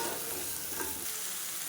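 Small onions and tomatoes sautéing in a pan for chutney, a brief burst of sizzling with a spatula stirring through it, close and steady.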